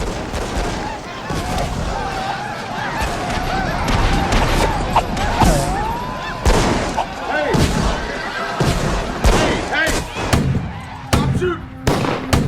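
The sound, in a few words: gunfire, shooting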